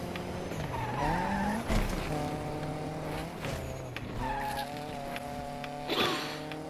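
Tires skid and squeal as a car drifts through a drift event in the Need for Speed Unbound video game, with a steady engine drone and repeated wavering squeals running continuously at moderate loudness.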